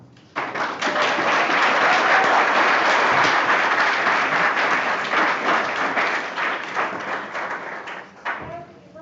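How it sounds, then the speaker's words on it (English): An audience at a county board of health meeting bursts into loud applause after a public comment, dense clapping for several seconds that gradually thins out and trails off into scattered claps. "Limit your applause."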